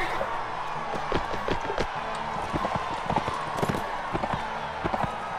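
Horse hooves clip-clop in a Mount & Blade Warband battle, a busy run of uneven thuds over a steady crowd-like din with voices mixed in.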